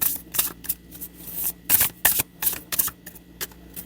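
Tarot cards shuffled and drawn by hand, a rapid series of crisp riffling bursts and soft snaps close up, uneven in rhythm, with no talking.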